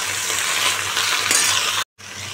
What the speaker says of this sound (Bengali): দেখো শাকগুলো দিয়ে দিলাম, শাকগুলো দিয়ে দিলাম।